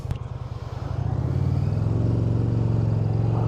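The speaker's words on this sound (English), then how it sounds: "Listen to that exhaust. This ain't no slow bagger." The exhaust of an Indian Challenger Dark Horse 112 bagger motorcycle drones steadily up close, building in loudness and settling into a deep, even rumble with no talk over it.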